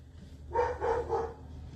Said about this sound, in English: My dog is losing his mind.